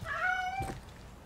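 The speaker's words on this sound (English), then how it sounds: "It's the damn cat again." A cat in the horror video game Sinking Iron lets out a single drawn-out, rising meow, close and clear over a foggy ambient background, then fades into quiet.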